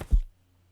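A large book moved in a single quick thud, a brief low whump recorded close to the microphone, followed by near silence.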